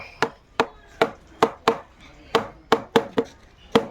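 Knife chopping onion and garlic on a board, about a dozen sharp close thwacks in an uneven rhythm with brief pauses, alone without talk.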